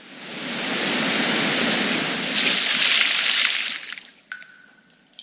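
Waterfall water pouring down in a dark underground cave, a loud steady rushing roar that swells, then fades away, leaving a few faint drips and splashes at the end.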